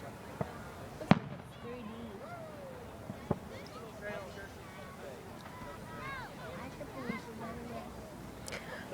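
Amateur fireworks go off outdoors at dusk, a few distant sharp pops and bangs spread irregularly through the clip, heard under people chatting nearby.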